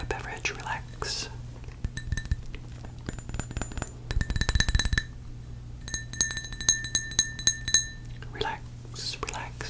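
Glasses clink together in a toast, several bright chimes and rattles scattered through the clip, with soft voices and whispering heard around them.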